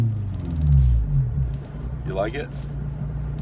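Honda S2000 with its mufflers cut off and tips fitted, idling with a deep steady rumble and a slight swell early on, while a voice briefly asks a question.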